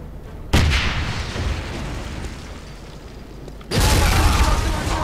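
Grenade explosions in the shooter game Wolfenstein, two loud sudden blasts, the first followed by a rumbling decay and the second a few seconds later booming heavily to the end.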